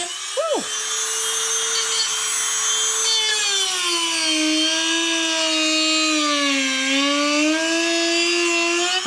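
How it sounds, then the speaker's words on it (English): A Dremel rotary tool cuts during a Hummer H3 speaker replacement, giving a loud, close, high-pitched whine that holds steady while its pitch dips and rises slightly under load. "take your Dremel tool or whatever you've got for cutting"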